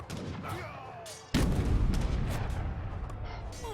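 Cannon artillery fire in Age of Empires III, a sudden heavy boom that cuts in mid-clip and gives way to a dense, rumbling barrage of blasts. Faint game effects run underneath before the first shot.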